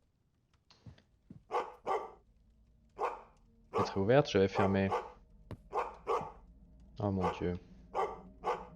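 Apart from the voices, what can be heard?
dog barking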